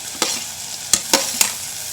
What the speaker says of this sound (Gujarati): હવે મકાઈના દાણા અને વટાણાને આ રીતે તેલ સાથે થોડા સાતળી લઈશું